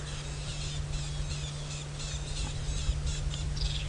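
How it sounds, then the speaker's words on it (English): Rattling cisticolas give steady, repeated scratchy alarm calls on an African safari drive at sunset, heard at moderate distance over a constant low engine hum. "Tenacious little birds, constantly alarm calling if there's any sign of a predator."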